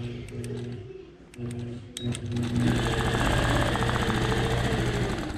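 A sewing machine stitches a memory quilt, running in short stop-start bursts before settling into a continuous rapid mechanical whir with a steady rhythmic needle beat.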